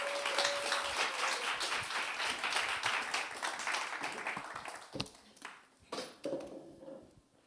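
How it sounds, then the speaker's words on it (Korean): Congregation at a Korean Sunday church worship service applauding a new preacher, dense steady clapping that thins out and trails off into a few scattered claps near the end, with faint tonal pings. "박수 한번 우리 하겠습니다."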